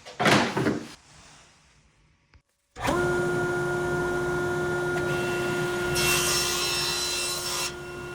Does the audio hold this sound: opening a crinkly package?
no